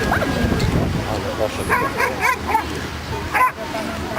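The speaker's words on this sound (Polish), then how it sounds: "pies nie atakuje go. Tylko pilnuje i oszczekuje." A police dog barks and yips repeatedly at close range in quick, excited bursts while guarding a decoy at a police festival, with a person talking over the barking.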